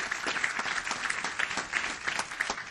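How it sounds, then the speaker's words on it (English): A council-meeting audience gives a brief round of applause, dense steady clapping from many hands in a large room, with no voices over it. "Nice round of applause for Nicole."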